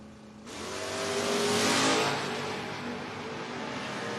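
A 1975 Monza drag car launches at a door-car drag strip, its engine note surging into a loud roaring swell that peaks and then settles into a sustained high drone.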